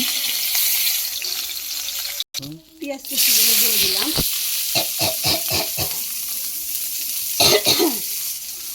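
Chopped onions tipped into hot leftover oil from frying kalibaus fish, giving a steady loud sizzle with stirring clatter and brief low human throat sounds partway through.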